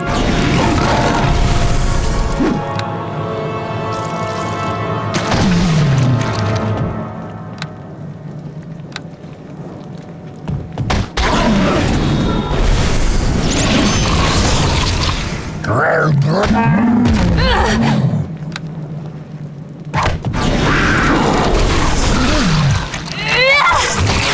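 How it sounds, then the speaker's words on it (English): Magic missile spell explosions in the fantasy game Neverwinter Nights, near and loud: booming impacts and crashes mixed with swooping whooshes, layered over constant game noise, with a voice speaking at times. "Alright, magic missile"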